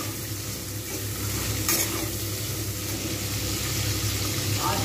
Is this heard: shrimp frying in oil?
yes